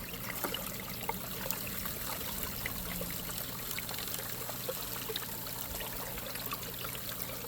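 Water runs steadily across a 3D-printed gold sluice mat during prospecting, a continuous close trickling wash with no speech.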